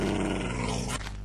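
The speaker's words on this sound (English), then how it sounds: "my dog growls really awesomely" A dog growls low and sustained, a close rumbling snarl lasting about a second with no talking over it.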